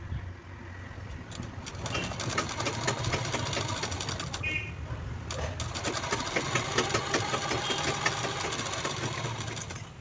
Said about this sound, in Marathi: उलट साईड ठेवायची चेनीची आणि स्टिच करून घ्यायचं.